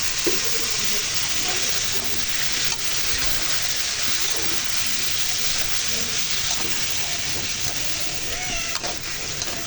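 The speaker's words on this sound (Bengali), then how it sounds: "এখানে সবজিগুলো দিয়ে দিয়েছি এখন কিছুক্ষণ ভালো করে কষিয়ে নেব" Vegetables stir-frying in a pan, a steady loud sizzle and hiss with occasional utensil scrapes running throughout, no talk over it.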